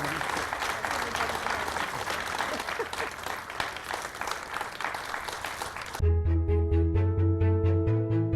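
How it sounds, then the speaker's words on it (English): An audience at a 106th annual meeting applauds with a dense, steady wash of clapping for about six seconds before music with sustained tones takes over. "Everyone, please give her a round of applause."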